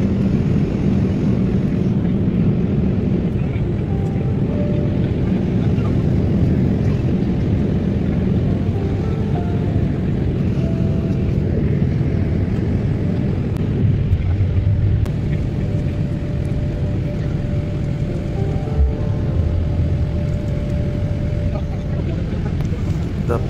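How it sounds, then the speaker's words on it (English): Steady, loud cabin drone from an airliner descending toward Sylhet International Airport, a continuous low engine roar with faint tonal hums that runs unbroken throughout. "Plane will land at Sylheti International Airport very soon."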